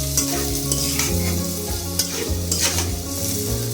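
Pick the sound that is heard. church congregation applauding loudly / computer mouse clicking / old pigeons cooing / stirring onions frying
stirring onions frying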